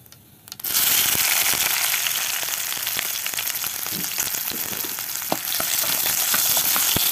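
Whole cumin, chopped onion, garlic and green chili hit hot oil with a sudden loud burst of sizzling after a brief quiet moment, then keep frying in a dense, crackling hiss to the end.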